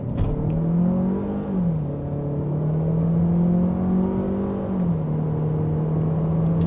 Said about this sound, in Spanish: Arrancamos, pedal a fondo